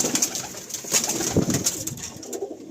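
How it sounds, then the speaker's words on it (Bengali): Malbai pigeons in a full loft at Diamond Harbour coo softly and repeatedly, a close, low murmuring mixed with faint rustling and scattered bird calls. "এই হচ্ছে মালবাই পায়রা"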